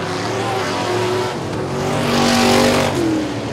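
Street stock race cars roar loudly past on the final lap at Sabine Speedway, with engines rising and falling through the corners and a hint of tire squeal.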